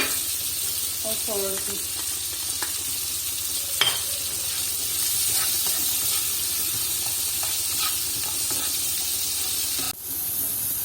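Vegetables stir-frying over high heat with chili flakes and salt, a steady close sizzle and hiss running throughout with a few utensil clinks, under brief talk from a woman.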